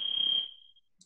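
A countdown timer's alarm beeps at the end of a timed round in an intermediate warrior training class: a steady, shrill electronic tone that sounds for about half a second, then trails off into near silence.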